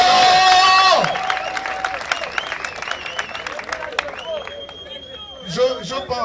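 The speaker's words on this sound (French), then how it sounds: "Sous vos acclamations!" A political rally crowd in Libreville cheers and applauds loudly in a brief burst, then someone speaks through a microphone over lingering crowd noise.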